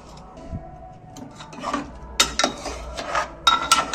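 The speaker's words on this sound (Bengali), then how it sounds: "এইবার কুকার দেখছি খুলে" A metal pressure cooker holding aloo dum, taken off after one whistle, is opened with close metallic clinks and clanks of the lid and pot, quiet at first and then in sharper clusters toward the end.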